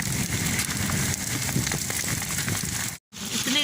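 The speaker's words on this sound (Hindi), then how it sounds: "इतनी सख्त बारिश लगी है" Heavy rain with hailstones falling outdoors, a dense, steady crackling hiss of drops hitting surfaces, loud and continuous apart from a brief cut near the end.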